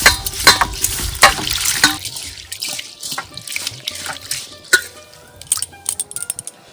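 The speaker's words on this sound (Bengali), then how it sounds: "জল দিয়ে ডালটা ভালো করে ধুয়ে নেব কষলে কষলে" Whole masoor lentils being rubbed and swished by hand in water in a large bowl, with wet sloshing, splashes and drips in irregular bursts, close and fairly loud, no voices.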